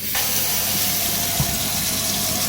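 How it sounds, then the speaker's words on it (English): Tap water runs steadily into a kitchen sink as it fills, a continuous close hiss and splash with a faint low hum beneath, no talking. "feel free to fill the sink up with water"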